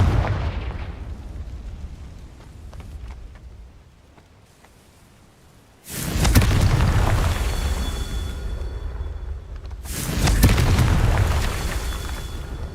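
Confringo blasting spell explosions in a Harry Potter video game, two loud, booming blasts that each roll on for several seconds, following quieter rumbling, and no talking.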